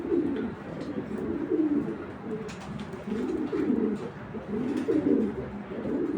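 Racing pigeons, including a hen, coo in repeated low throaty bursts, close and fairly soft, with short gaps between each rolling call.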